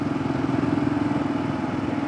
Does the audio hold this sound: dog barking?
no